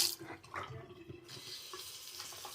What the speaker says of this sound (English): let's turn this water on and see what we got